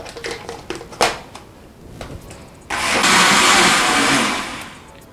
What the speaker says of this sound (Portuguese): Agora nós vamos bater mais esses ingredientes todos por mais uns 2 minutinhos no liquidificador